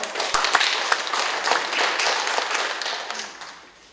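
An audience at a National Assembly forum applauds, a dense burst of clapping that swells and then fades out toward the end.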